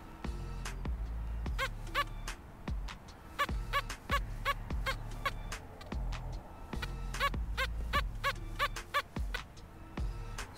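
Metal detector signal tones repeating in quick warbling beeps, a smooth high-pitched electronic signal pulsing in bursts, close and clear with no talk.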